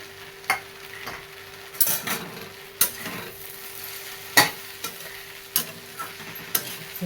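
Okra (bhindi) with coriander stir-fried in a pan for a dry tiffin dish, a soft steady sizzle broken by sharp scraping clicks of a spatula against the pan at irregular intervals, with no voices.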